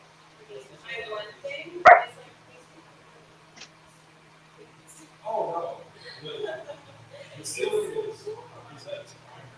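A dog barks once sharply and loud up close, followed later by fainter yips and whimpers amid the scene, with a person talking intermittently in a room.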